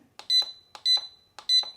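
Mosaic MH306V alarm keypad giving three short electronic beeps at an even pace while a PIN is entered, each a bright tone paired with a faint key click, clear and close.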